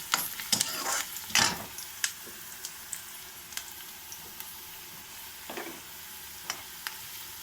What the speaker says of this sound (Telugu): ఫస్ట్ ఈ ఆనియన్, పచ్చిమిర్చి వేసుకుందాం. పప్పు వేసుకుందామండి.